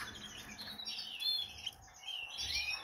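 Small birds give faint, brief high chirps and thin whistled tweets scattered over a quiet background of light rustling.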